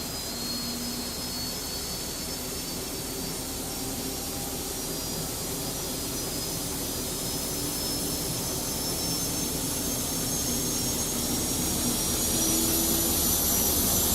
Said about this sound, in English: the APU started up here as well, and we can listen for that.